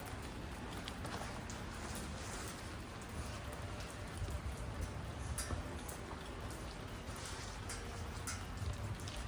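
Steady rain pattering on a small umbrella during a walk at Boat Lagoon and Royal Phuket Marina in Phuket, Thailand, a dense, even hiss of drops lasting throughout, close and continuous with no talking.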